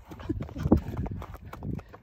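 Horses walk close by with a loose dog nearby, hooves clip-clopping in an uneven run of soft, fairly loud thuds.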